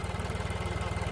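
A John Deere 5050D 4x4 tractor stuck at the Yamuna river runs its engine hard, giving a loud, close, steady low thumping pulse without a break.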